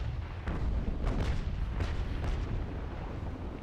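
Ship cannons booming in the Naval Action game, a series of heavy, rumbling blasts overlapping into a continuous low roar, loud and close with no talking.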